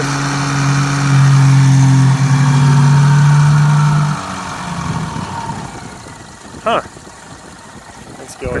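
A supercharged Subaru FB25 engine runs with its supercharger inlets capped, a loud steady drone with strong low hum that drops to a quieter idle partway through, with a brief sharp rev spike near the end.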